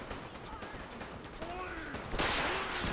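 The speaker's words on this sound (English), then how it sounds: "Somebody's shooting rockets." Rockets fired in the game Fallout 4: steady rumbling blasts and gunfire with a louder burst near the end, somewhat muffled and continuous.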